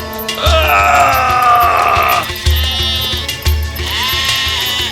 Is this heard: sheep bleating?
yes